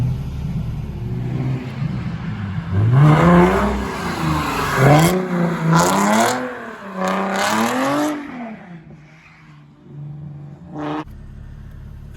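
A Corvette C5 with resonator and muffler delete exhaust revs hard several times nearby, each blip rising in a loud raspy roar and falling back to a rumbling idle.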